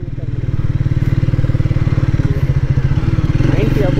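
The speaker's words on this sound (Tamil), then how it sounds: "கைஸ் இப்போ இந்த வண்டி நம்ம ஓட்டிகிட்ருக்கோம்" Motorcycle under 400cc with a smooth engine being ridden, a steady close engine drone with rapid firing pulses throughout, while a voice talks over it.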